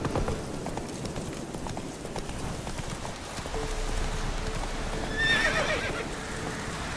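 Hooves of Roach, the horse in The Witcher 3, pound in a quick gallop close by, with a neigh rising midway over a rain-like background wash.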